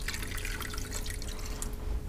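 Cooking liquid poured down the inside wall of a pressure cooker pot while preparing a turkey breast meal, a steady close trickling and splashing that runs unbroken with no talk.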